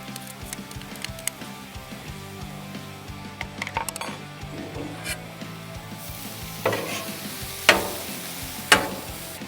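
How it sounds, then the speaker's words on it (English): Broccoli being stirred with sauce in a pan for sweet heat chicken bowls, with soft scraping and scattered clinks of a utensil against the pan over a low sizzle, and a few sharper knocks toward the end. "Let's add it in and give it a good stir."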